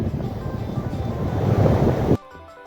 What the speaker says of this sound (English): We got constant 25-mile-an-hour winds with 40-mile-an-hour gusts coming left or right.